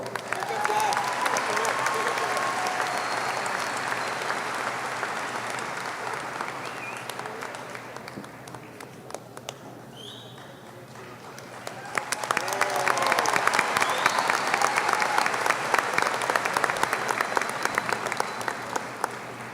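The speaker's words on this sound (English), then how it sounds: "Let's give her a big round of applause." Audience applause at a 2024 high school graduation ceremony, broad crowd clapping with some cheers and voices, easing to a quieter stretch in the middle before swelling again louder toward the end.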